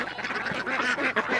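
A flock of farm ducks quacks repeatedly in quick, overlapping calls, close by and fairly loud, with a few honking notes mixed in and no one talking.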